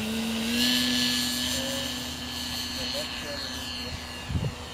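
An airplane takes off, heard as a steady, continuous engine drone with a sustained low tone throughout and a brief bump in loudness near the end.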